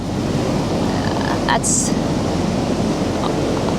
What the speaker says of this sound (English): I've got to film some of these waves.